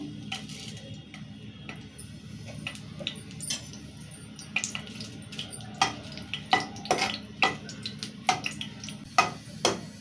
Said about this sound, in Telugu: ఇంకా మిరపకాయలు ఇవి మంచిగా వేగాలి మంచిగా వేస్తేనే మంచిగా ఇవి కడకుంటాయి